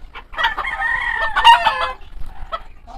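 A Polish chicken rooster crows once nearby, loud and clear, followed by a few softer clucks.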